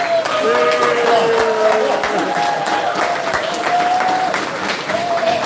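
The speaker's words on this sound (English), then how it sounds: "A big round of applause for Rabbit." At a wrestling club's end-of-year banquet, the audience gives a big round of applause for a coach, a loud sustained clatter of many hands with cheers and voices woven through.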